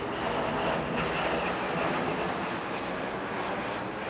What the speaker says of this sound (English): Is that my jet?